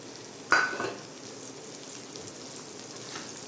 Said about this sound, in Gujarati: તેલ ગરમ થઈ ગયું એટલે ભીંડો નાખ્યો